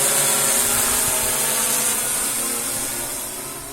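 A drone carrying a SIYI RTK F9P positioning module flies off after takeoff, its steady whirring buzz loud and close at first, then fading gradually as it moves away.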